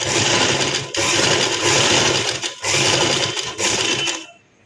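A sewing machine stitches fabric in loud, fast continuous bursts, with three long runs separated by brief stops before it falls quiet.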